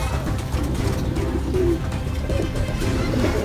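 Soft, low cooing of several caged doves or pigeons close by, overlapping in a continuous murmur with faint rustling.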